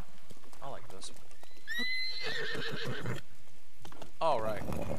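Horse neighs in the video game Zelda: Breath of the Wild, with a loud, high whinny in the middle and another shorter one near the end, accompanied by game sounds and someone talking over them.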